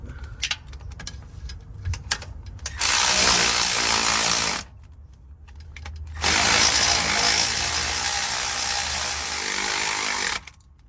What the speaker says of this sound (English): Go ahead and use the ratchet, torque them down.